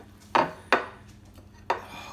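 A fork cuts a chunk of shakshouka egg on a plate, giving three sharp, close taps of metal on ceramic spaced out over a couple of seconds against a quiet background.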